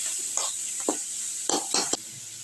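Onions sautéing in a pan are stirred in several quick, close scraping strokes over a soft steady sizzle, with no voices.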